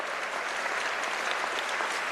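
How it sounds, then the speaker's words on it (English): Steady audience applause fills a conference hall during a political talk at the Netroots Nation gathering, a dense, even patter of many hands clapping at moderate, slightly distant volume with no break. "We can clap for that."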